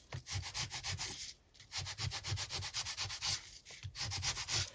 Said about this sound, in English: I might try and just do a little bit of sanding on that top bit